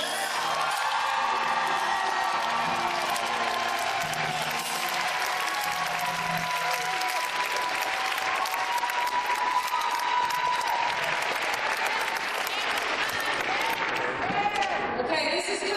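A large crowd at a One Billion Rising rally in Atlanta applauds, whoops and cheers steadily and loudly, with scattered shouts throughout.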